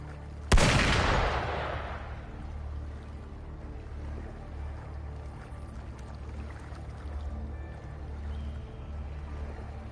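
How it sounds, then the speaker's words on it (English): A single loud, sharp gunshot rings out near the start of a video game scene, its crack trailing off into a low rumbling ambience that continues steadily for the rest of the clip. "Gunfire!"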